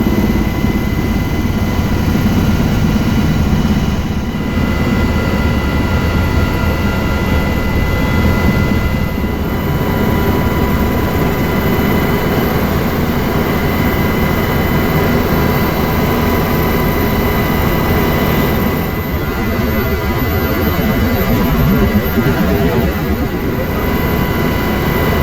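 A paramotor engine drones steadily and loudly in flight over mountain country, a continuous close motor roar with wind rush and no pauses throughout.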